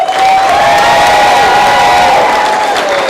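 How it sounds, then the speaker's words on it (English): Parents, family and friends at a martial arts black belt graduation cheer and applaud the testers, a loud, dense roar of clapping with shouts, whoops and children's voices filling the room. "let's go ahead and welcome all of our black belt testers with a big round of applause"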